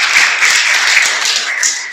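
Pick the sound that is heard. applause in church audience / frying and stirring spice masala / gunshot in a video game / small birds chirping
applause in church audience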